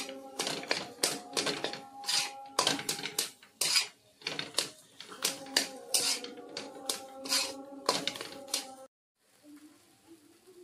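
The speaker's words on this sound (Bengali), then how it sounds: "দিয়ে ভালোভাবে আলু আর মটরশুঁটির সঙ্গে ভালোভাবে মিশিয়ে নেব।" Mashed potato and green peas with turmeric and chilli powder are stirred together for pea cutlets, with rapid rhythmic clattering bursts of a utensil against the bowl that stop abruptly near the end.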